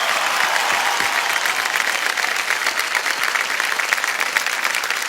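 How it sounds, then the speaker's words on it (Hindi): Sustained audience applause, dense and even throughout, with a faint crowd murmur underneath. "तालियां बजती रहे इनके लिए।"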